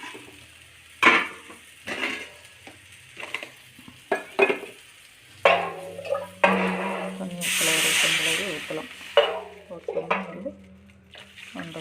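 Water is poured into a hot pan of lentil dumpling curry with a rushing sizzle, amid scraping and stirring sounds in a kitchen.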